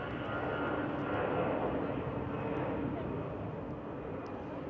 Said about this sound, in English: Lauda Air just took off